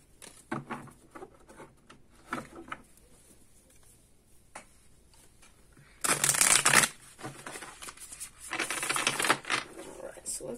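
A deck of tarot cards is shuffled in two loud, crisp bursts of riffling, with softer card handling and light tapping between them.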